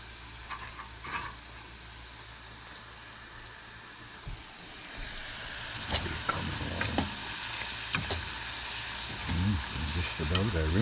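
Fried potatoes brown in a pan, giving a soft, steady sizzle with occasional stirring clatter and scraping.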